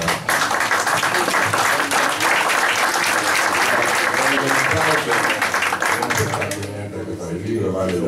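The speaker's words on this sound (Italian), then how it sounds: "che merita un applauso" Loud, dense applause from an audience at a book presentation in an exhibition and conference hall, sustained for several seconds before fading out near the end.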